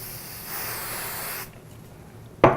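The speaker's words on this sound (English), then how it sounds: "Now this textured spray," Textured hair spray hisses from a can in one steady burst about a second long, followed by a short sharp click or tap at the end.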